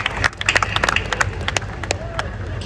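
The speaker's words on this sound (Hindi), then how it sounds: "जिन्हें समझ में आए वो बजा सकते हैं थोड़ी बहुत तालियां" Clapping and crowd noise come from the audience at a Hindi poetry recital at the Kajli Teej fair, a burst of scattered, uneven claps over a background of murmuring voices.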